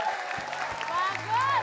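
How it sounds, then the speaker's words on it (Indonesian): Studio audience applause on an Indonesian live TV variety show, a steady broadband clatter of clapping with a sustained musical tone and bass rising in the background. "Tepuk tangan buat pria."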